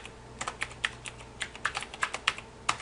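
Clicking computer keyboard typing Java code, a steady run of light, close key taps with uneven rhythm, alone without talk.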